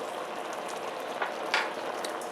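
Korean braised fish cakes simmer in a reducing seasoning sauce with fish sauce and green and red chili peppers in a pan. They give off a faint, steady bubbling sizzle with a few soft pops.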